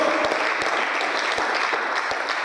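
Church congregation giving a strong round of applause to God during a sermon, sustained dense clapping with occasional heavier thumps, steady and unaccompanied by speech.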